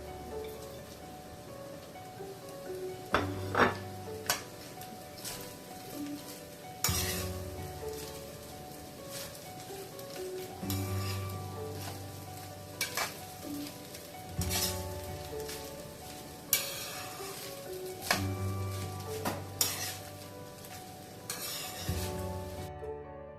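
Fried rice tossed and stirred in a pan after fried peanuts go in, with a steady sizzle under repeated scraping strokes and louder clattering bursts every few seconds, no talking.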